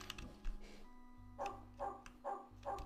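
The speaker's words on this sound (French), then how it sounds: "il y a un chien là" A dog barks from the retro point-and-click game Shadow of the Comet, set at a Parisian manor. There are four evenly spaced, moderately loud barks over a low game music drone, with no voices.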